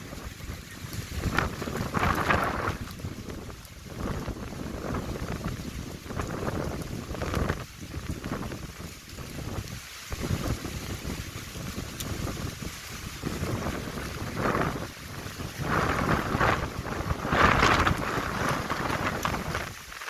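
A seaside storm blows steady, gusting wind into the microphone at a beach on Simeulue in Aceh, with surf rumbling beneath the roar throughout.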